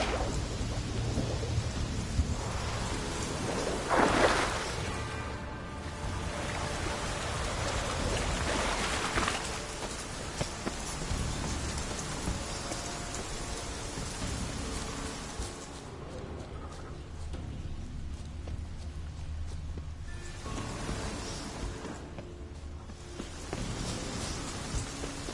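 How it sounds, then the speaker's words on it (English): Steady rain and deep rolling thunder fill a PS4 video game scene, with a constant heavy wash of rainfall and a couple of louder thunder swells rising and fading throughout. "Looks like rain"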